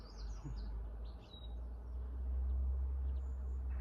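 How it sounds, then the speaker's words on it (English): Faint high chirps and whistles from birds at a distance, scattered over a steady low rumble of background noise. "Add to the bird song."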